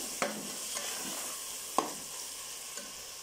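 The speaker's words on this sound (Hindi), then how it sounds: "मसाला हमारा देखें अच्छे से भुन गया है" Spice masala fries in a pan as a soft, steady sizzle, with a few sharp scrapes of stirring heard close by.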